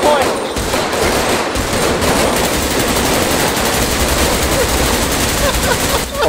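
Sustained rapid gunfire in a role-play video game, dense overlapping bursts like machine-gun fire continuing loud and unbroken throughout, with voices faintly beneath.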